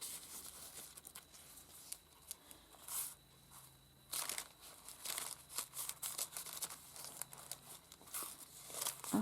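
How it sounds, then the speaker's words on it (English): A double-thickness paper bag stitched into a petite vintage-style handmade journal gives off repeated close, crisp crinkling and rustling bursts as it is handled, with no one talking. "I just stitched those onto a paper bag. It's like double thickness because I liked the noise it made."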